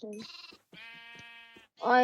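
Several sheep bleat in a Minecraft-style game, a few separate wavering calls close together with short gaps between them.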